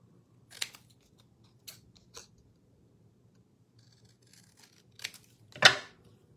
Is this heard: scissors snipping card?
yes